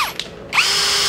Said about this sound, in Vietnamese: Cây khoan cho anh em sử dụng rút nõi máy lạnh xài gia đình này